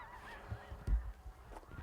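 Snow geese in spring in Canada honk as the flock lifts off from a field, a few brief distant calls with one louder honk near the middle.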